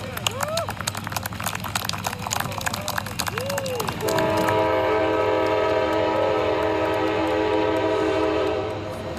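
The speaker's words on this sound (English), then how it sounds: "With a train horn coming around the bend to honor the moment." A train rounding a bend sounds its horn in a long, sustained multi-tone blast that begins midway and holds loud for about five seconds, preceded by rolling rail rumble and short rising whistle-like chirps.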